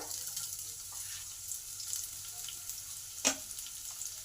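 Onion added to mustard oil with fried garlic gives a soft, steady, close sizzle, with a brief sharper clatter near the end.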